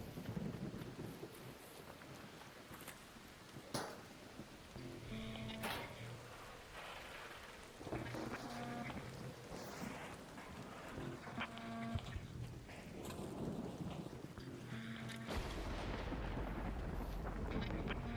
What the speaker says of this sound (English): Make sure you don't get caught out by that lightning.